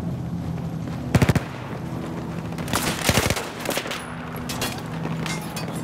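Short rapid bursts of machine gun fire crackle in the Battlefield 4 video game, two or three quick volleys over a steady background din, fairly close and punchy.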